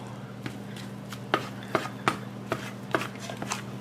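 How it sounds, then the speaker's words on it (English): A smoked pork roast being pulled apart on a Big Green Egg setup, with a series of sharp, irregular clicks and taps from utensils against the meat and board over a steady low hum. "shred it, don't chop it"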